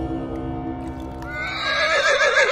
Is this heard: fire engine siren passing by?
no